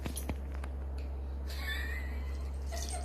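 A fold-eared cat lets out a few faint, drawn-out meows over a constant low hum, with no talking.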